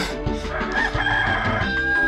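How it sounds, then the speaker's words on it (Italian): A chicken on the farm level of the PS1 game 102 Dalmatians: Puppies to the Rescue crows loudly and clucks, close and clear over faint game music, with no talking. "gallina in fuga da questa parte"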